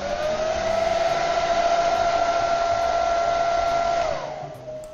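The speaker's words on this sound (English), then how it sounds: "grab your hairdryer on the highest setting and blow the plastic from the top down" A hair dryer on its highest setting blows over plastic window insulation film from a Frost King window kit, giving a loud steady whine with a constant pitch. It cuts off and winds down near the end.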